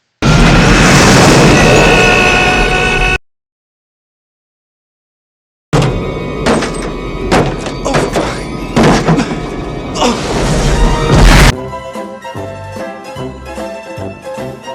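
A grenade explodes in the action movie Die Hard 2, giving loud booming blasts that cut to silence, then a run of heavy thuds and bangs before a sustained tonal rumble closes out.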